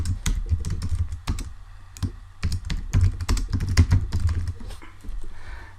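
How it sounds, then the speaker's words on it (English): Someone types their name on a computer keyboard, with a quick, uneven run of close, crisp key clicks over a low background hum and no speech. "And I'm just going to type my name in."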